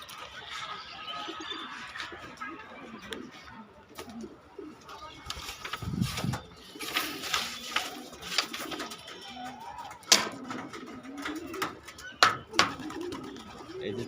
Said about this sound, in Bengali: এই যে দেখেন পুরান কবুতর